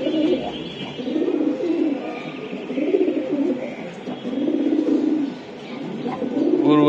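High-flying giribaj pigeons cooing close by in slow, rhythmic rounds of soft, throaty coos that swell and fade over one another without pause.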